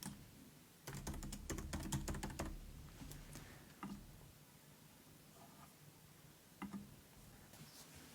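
Quiet keystrokes on a computer keyboard tap out a username and password, a quick burst of clicks followed by a few scattered single presses after a pause.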